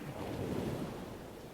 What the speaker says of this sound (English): You can smell the sea as the waves gently lap at the shore.